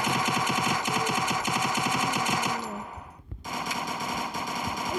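Rapid bursts of gunfire from a video game shooter, loud and close, rattling off in quick repeated shots for over two seconds, then a brief lull and a sharp thud before dense ambient battle noise resumes.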